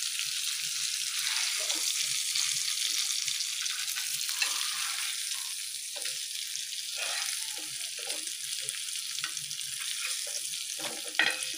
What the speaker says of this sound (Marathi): आता मी मंद गॅसवर ते पापलेट तळायला ठेवलेलं आहे